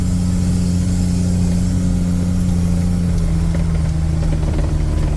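A fertilizer truck engine labors steadily while climbing out of a coulee, a loud continuous drone with its pitch sagging slightly under load, close and without talking.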